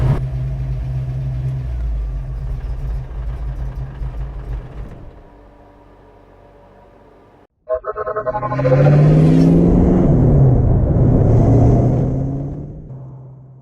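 A classic Ford Mustang fitted with a 347 engine runs loudly, a steady rumble that briefly drops out and stalls to a gap, then fires back up and revs hard before settling.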